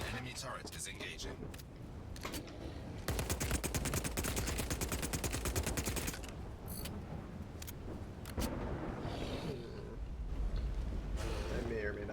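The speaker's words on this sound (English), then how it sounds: "An enemy turret is engaging." Rapid automatic fire from an enemy turret in an online vehicle combat game, a dense stuttering burst of shots lasting a few seconds amid engine rumble and other battle noise, with a voice talking over it.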